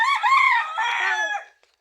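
A single chicken gives a short, loud squawking call up close, rising and breaking off after under two seconds.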